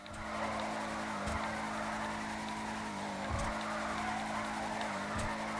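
Bravado Hotring Hellfire race car drifting in GTA 5, a continuous loud engine drone with tire squeal, brief louder bursts as the car slides, no voices.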